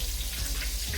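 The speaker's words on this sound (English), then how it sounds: "you hear that sizzle?" Steady, crackling sizzle of chicken breast frying in a hot pan, close and continuous for the whole second.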